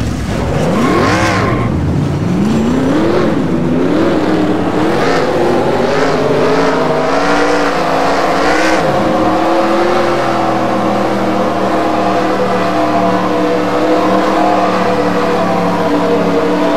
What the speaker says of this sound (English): Driver, start your engine!